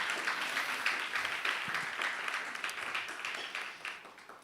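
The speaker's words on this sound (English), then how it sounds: "Let's give them a round of applause." Applause from a fairly distant audience at a women's innovation event held in a sports park venue, a continuous wash of many hands clapping that eases off gradually.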